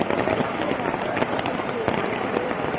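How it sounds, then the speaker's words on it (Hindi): Heavy rain pours over an outdoor reunion gathering with a stage, making a dense, loud, continuous hiss with scattered spatters while voices talk over it. "बहुत तेज बारिश आ रही है"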